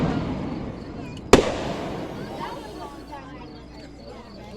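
A firework at an Independence Day show in Minersville bursts with one sharp loud bang, followed by fading crackle and rumble, while people chatter nearby.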